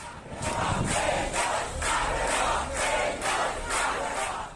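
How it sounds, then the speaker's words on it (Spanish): A crowd at Tehran airport cheers and claps in rhythmic surges, the noise rising and falling in regular pulses as if chanting, with no clear talk above it. "fue recibida con flores y aplausos en el aeropuerto de Teherán"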